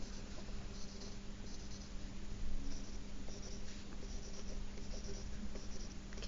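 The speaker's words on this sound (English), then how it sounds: "So I'm going to use pencil first because that's handy right now." A pencil scratches on paper in short, steady strokes, close and continuous, with small pauses between marks and no talking.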